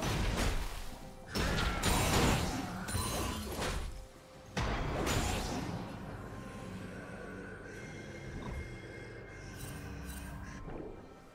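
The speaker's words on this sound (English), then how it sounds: "Red team's turret has been destroyed." A turret is destroyed in League of Legends, with heavy crashing and crumbling impacts in several bursts over the first few seconds, then settling into a lower rumbling mechanical clatter with scattered game effects.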